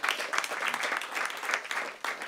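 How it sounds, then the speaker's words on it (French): Audience applause at a live show, a dense, steady patter of many hands clapping that fills the whole stretch at an even level, with a brief dip and a fresh surge near the end. "vous pouvez l'applaudir"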